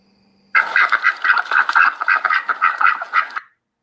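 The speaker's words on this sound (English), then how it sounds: "that's ducks and geese for sure" Ducks and geese quack loudly and close in a rapid, uneven run of calls lasting about three seconds, with no voices over them.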